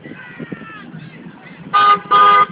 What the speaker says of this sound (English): Everyone honking to raise awareness for Homelessness Matters Day